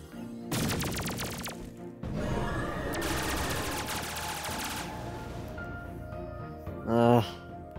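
Seeking missiles fire in a video game as dense rapid bursts of crackling gunfire-like blasts, loud and close, broken by a short pause and ending in a brief tonal game effect.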